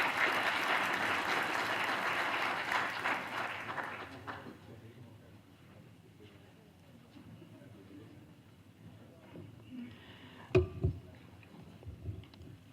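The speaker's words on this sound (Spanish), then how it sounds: "pido para ellos un fuerte aplauso, por favor," An audience applauds the guests of a morning panel at a forum, with dense clapping for about four seconds that fades into quiet room noise with a few faint knocks.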